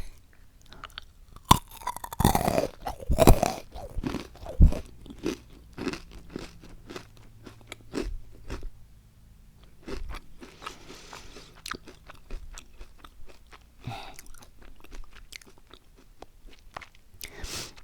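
Chocolate-coated honeycomb candy bitten and chewed very close to the mic, a few loud brittle crunches early, then softer crackly chewing and small crunches trailing off, with no talk.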